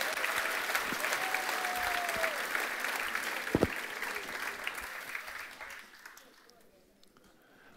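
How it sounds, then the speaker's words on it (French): Dense audience applause fills most of the stretch, loud and steady, then thins and fades away over the last couple of seconds. "Merci beaucoup, on peut les applaudir vraiment."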